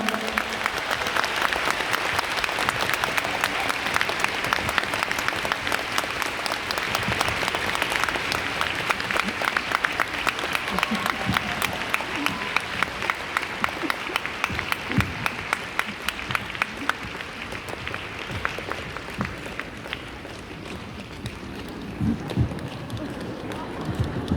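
A concert audience claps steadily and loudly through the whole stretch, a dense, sustained wash of applause at a Phantom Singer 3 gala concert in Seoul, with crowd noise mixed in.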